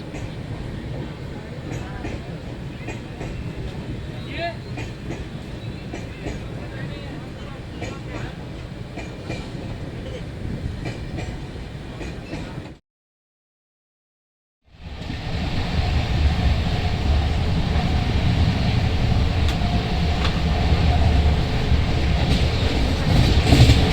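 The Bengaluru Rajdhani express rumbles past loudly at Vikarabad Junction with a steady rattling roar, briefly dropping to silence before the heavy rolling noise resumes even louder.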